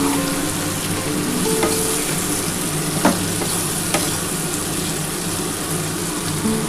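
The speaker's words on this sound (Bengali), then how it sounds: "পটলটা কিন্তু একটু খুব ভালো করে ভেজে নিতে হবে" Pointed gourd frying in hot oil for a vegetarian potato and pointed gourd curry, a steady close sizzle and crackle with a few sharp spatter pops, no voices.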